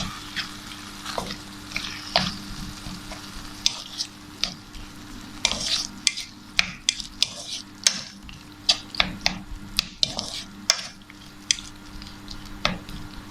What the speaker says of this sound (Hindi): इसको अच्छी तरह मिक्स कर लेते हैं।